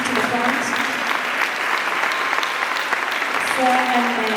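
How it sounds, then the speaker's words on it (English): Sustained round of applause from an audience at a school ceremony, steady dense clapping throughout with a few faint voices and whistle-like tones rising near the end. "May we give him and his wife a hearty round of applause"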